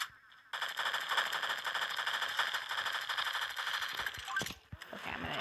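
Sustained rapid automatic rifle fire from a supercharged rifle in the shooter game Pixel Gun 3D, loud and continuous for several seconds before breaking into a few scattered shots near the end.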